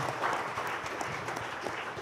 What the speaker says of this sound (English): he deserves a much bigger applause